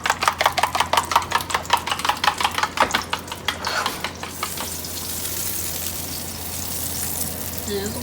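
Butter sizzles in a frying pan for scrambled eggs, a hissing crackle that comes up and settles into a steady fry after a run of quick, rhythmic taps or chopping at the start.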